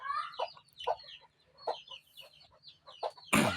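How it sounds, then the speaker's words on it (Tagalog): Native chickens cluck and chirp in a backyard, a series of short close calls spaced irregularly over a faint low hum, ending with a sudden loud burst of noise. "Yan mga idol yung aking mga manok."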